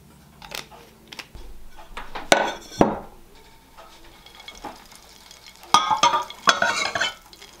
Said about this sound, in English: We're gonna add in our batter right into that melted butter